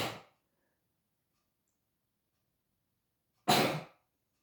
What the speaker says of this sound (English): Oh, I'm going to sneeze, sorry.